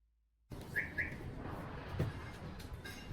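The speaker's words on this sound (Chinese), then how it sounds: "鸽子也在吃早餐，" Pigeons out in the open around breakfast time give a couple of short chirpy calls over a steady outdoor rustle, with a soft low thump near the middle.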